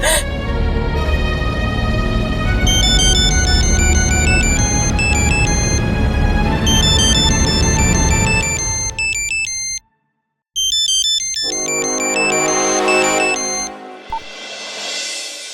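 A phone ringtone plays a repeating electronic melody over background music, breaks off briefly, then rings again.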